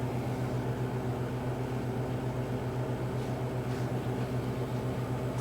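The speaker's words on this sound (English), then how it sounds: "I have the freeze dryer going" A freeze dryer runs steadily in a kitchen, a constant low mechanical hum with a faint hiss, unchanging and fairly quiet throughout.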